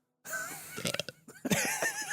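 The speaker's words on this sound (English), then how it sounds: "Oh, I'm gonna burp." A single short, low burp from a person, close to the microphone and fairly quiet, ending in a brief laugh-like catch.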